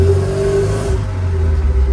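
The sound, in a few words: MGB GT engine revving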